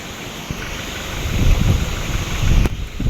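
Strong wind gusts buffet the microphone on the Agos shore, where the wind wrecked thatched cottages, a continuous loud rushing rumble that swells in the middle and near the end.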